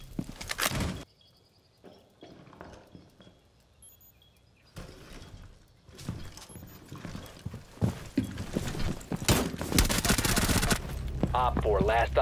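Video game gunfire cracks in bursts and rapid volleys amid game sound effects, clip-clopping and a horse whinny, loud and busy, with players talking over it.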